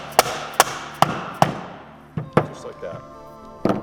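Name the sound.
tapping a deep well socket onto a bike part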